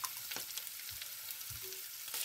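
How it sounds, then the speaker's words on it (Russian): Mushrooms frying over high heat in a pan, with a bright, steady hiss and crackle and occasional soft stirring bumps. "На большой температуре обжариваем грибочки"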